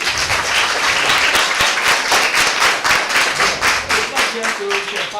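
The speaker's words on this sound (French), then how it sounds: "Applaudissez pour ce monsieur." Students in a classroom clap loudly and close together, a dense, uneven burst of many hands with some rhythmic patter, while voices murmur underneath.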